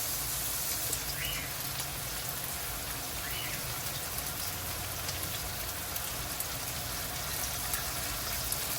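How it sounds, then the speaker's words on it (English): Beef sears in a big pan of hot oil for Guyanese beef chowmein, giving a constant close hiss of sizzling with faint spatters throughout. "You want it to get a nice sear to it."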